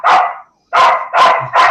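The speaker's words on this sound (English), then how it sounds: "Lulu's gonna have to go back outside because Lulu's barking inside." A dog barks indoors, four loud, close barks, one single bark followed after a short pause by three in quick succession.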